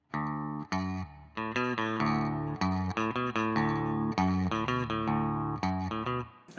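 Rockabilly guitar rhythm for a song, strummed fully open with ringing chords in a steady bouncing pattern, played alone, close and loud with short gaps between phrases.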